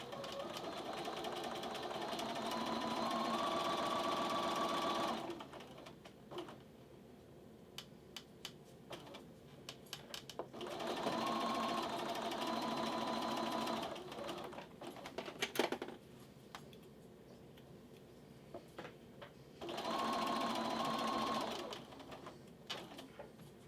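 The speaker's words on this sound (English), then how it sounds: "So I'm just going to get these sewn together. And I just run my fabric right along that guide." A sewing machine stitching a quarter-inch seam in fabric runs in three steady bursts of several seconds each, with quieter pauses and faint handling clicks between them.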